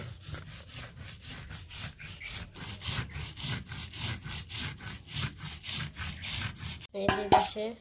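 Soaked mustard seeds ground into paste on a grinding stone at home: a steady rhythmic scraping and rubbing, stroke after stroke, close and fairly quiet, ending with a brief clatter.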